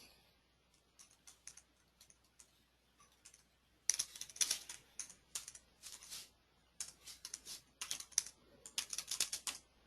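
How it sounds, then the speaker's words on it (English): Keys on a computer keyboard clatter quietly, a few scattered taps first and then quick bursts of typing, close and clear with no voices. "by typing in the field."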